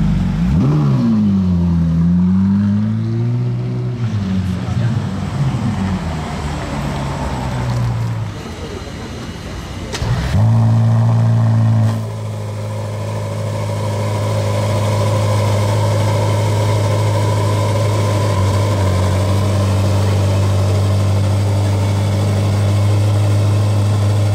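A Lamborghini Revuelto V12 hybrid supercar fires its combustion engine and revs, first rising and falling in pitch, then settling into a loud, steady low drone with bystanders talking around it.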